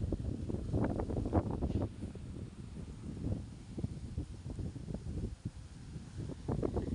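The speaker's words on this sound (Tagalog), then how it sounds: "Grabe ang hangin." Strong monsoon wind gusts over a coastal fishing area, buffeting the microphone in low, rumbling surges that rise and fall irregularly, fairly faint overall with no voices.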